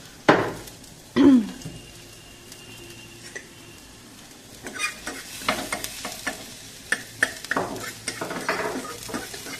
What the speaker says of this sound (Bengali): পেঁয়াজ আর রসুনটা হালকা তেলে একটুখানি জাস্ট সটে করে নিচ্ছি।